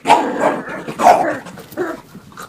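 A dog barks and yips in short, loud bursts at close range while being teased, three or four sharp, excited barks in quick succession.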